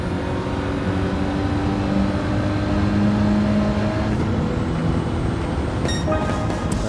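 A race car engine in the Gran Turismo 7 video game drones loudly and steadily as the car powers out of a corner, its pitch shifting across gear changes, with no voices.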